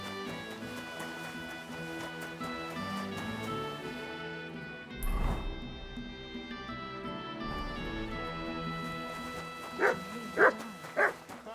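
A dog in the video game Kingdom Come: Deliverance II gives several loud, close woofs and yips, the sharpest barks bunched near the end, over a quiet game background with no talk.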